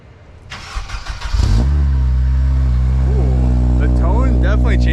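A Nissan 240SX with an SR20 engine and an RSX Type S exhaust cranks and fires up, then settles into a loud, steady idle with a deep, even hum. The engine is close and a voice speaks briefly over it.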